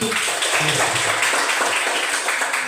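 Classroom applause for a student, a dense steady clatter of many hands clapping throughout, loud and close, with no talking.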